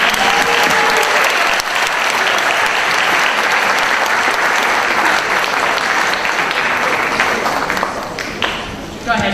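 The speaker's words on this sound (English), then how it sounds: "Again, a round of applause for our bridge builders." Loud, sustained applause fills a board of education meeting room as a crowd claps for a group of bridge builders, easing off slightly at the end.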